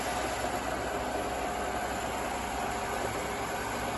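Steady continuous mechanical hum and whir of a Hitachi Seiki 3ML-P horizontal milling machine spindle running at 180 rpm, even and unbroken throughout with no talk.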